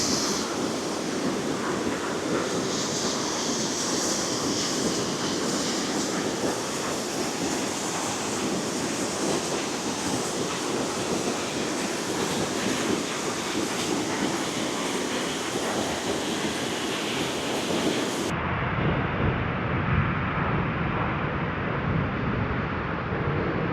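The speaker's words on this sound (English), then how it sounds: "Guess you can hear the falls now" Cascade Falls waterfall roars as a steady, dense broadband rush, continuous and loud throughout with no talk, its character shifting slightly near the end.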